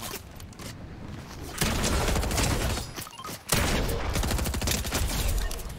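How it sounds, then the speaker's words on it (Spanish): Dense bursts of rapid gunfire from a Fortnite Battle Royale trios match, loud and close, firing in sustained volleys with a brief lull midway before a heavier barrage resumes. "A mí me está disparando gente, bro."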